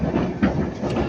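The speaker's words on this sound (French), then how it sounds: "Le métro, lui, il roule, lui, s'en va." A Moscow metro train runs on its line. A steady, loud rumble of wheels and rolling carriage noise heard from inside the car, with a faint rhythmic clatter and no voices.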